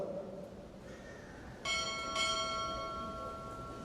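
Two strikes of a ship's bell ring out at a naval chief petty officer pinning ceremony, the second strike close after the first, each with a bright sustained metallic ring over a low murmuring room.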